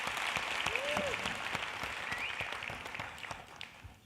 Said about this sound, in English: I appreciate those applause, as Jim said.